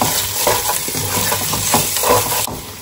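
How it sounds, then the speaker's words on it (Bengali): Spices for a dal tempering sizzle in hot oil in a home kitchen pan, a steady frying crackle broken by the scrape and clink of stirring. "তার ফোড়ন এখানে বসিয়েছি"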